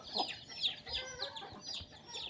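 Several native country chickens cluck and squawk close by on a poultry farm in a quick, overlapping series, no talking.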